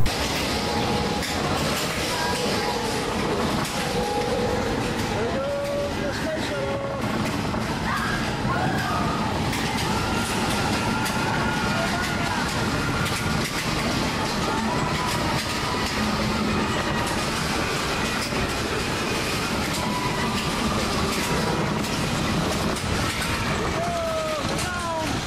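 A mine train roller coaster at Magic Kingdom rattles and clatters steadily along its track, with rumbling wheels and scattered screeches, continuous and fairly loud throughout.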